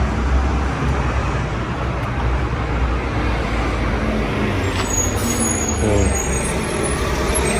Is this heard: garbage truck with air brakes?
yes